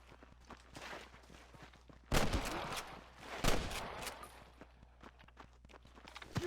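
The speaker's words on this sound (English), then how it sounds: "I can hear more gunshots" Red Dead Redemption gunfire: a couple of loud bursts of shots over a busy background of footsteps and scattered action noises.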